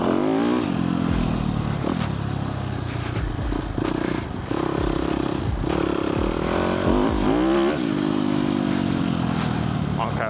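Dirt bike motorcycle riding a dirt track, its engine droning and revving continuously up close with rising and falling pitch as it shifts gears, loose clatter mixed in throughout.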